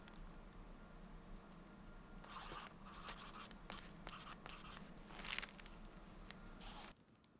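A pencil signs a matte Hahnemühle Photo Rag print with close, quiet scratching strokes in short bursts, then it stops, with no talk.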